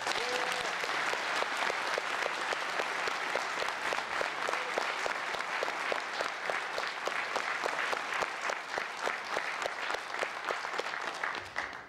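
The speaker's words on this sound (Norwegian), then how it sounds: "En liten applaus for det." A festival crowd at a 2001 music event applauds: loud, sustained clapping that runs steadily for about twelve seconds, with individual claps pulsing in a quick, even rhythm.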